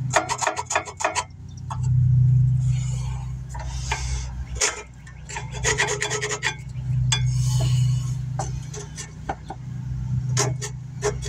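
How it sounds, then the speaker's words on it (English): A screwdriver scrapes the metal of a rear brake caliper bracket on a 2012 Dodge Grand Caravan in short, repeated rasping strokes, loud and close, in bursts separated by brief pauses. "we'll clean this up a little bit with the screwdriver. Kind of scrape it off there."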